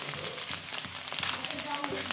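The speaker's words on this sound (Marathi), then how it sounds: "तर हा मसाला आपला हा बघा भाजत आलेला आहे." Masala with red chili powder and misal pav masala roasts in a pan, giving a steady, soft sizzle with scattered light crackles and pops throughout.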